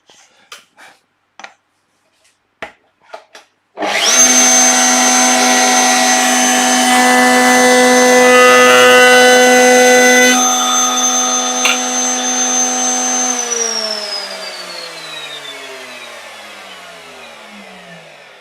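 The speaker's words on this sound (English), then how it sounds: "I'm going to cut chamfer on both sides, so this side and that side" A power tool runs up loud and steady for about ten seconds while cutting a 10-degree chamfer along the grain of a wooden piece for a traditional Japanese knife box, then spins down over several seconds, with a few faint knocks beforehand.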